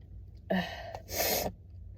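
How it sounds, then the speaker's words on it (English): A single sharp sneeze: a quick indrawn breath followed by a short, loud burst of air, with quiet on either side. "I feel like I have a sneeze coming."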